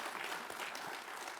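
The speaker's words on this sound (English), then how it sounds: "Can we give them a round of applause?" An audience at a hospitality technology hall of fame induction gives a round of applause. The clapping is a short, dense, moderately loud wash of many hands.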